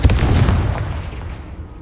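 A Confringo spell explodes in the video game Hogwarts Legacy. One loud, close boom hits at once, then a deep rumble trails away over under two seconds.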